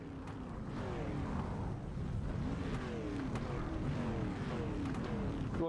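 Street stock race cars lapping Cedar Lake Speedway in the iRacing sim, several engines droning and revving in overlapping sweeps, steady and fairly loud throughout with no talk.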